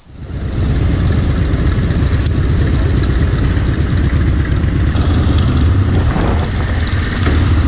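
A motorcycle engine idles and revs loudly up close while boarding a large vehicle ferry in New Zealand with cars and trucks, a continuous rough drone with echoing clatter around it.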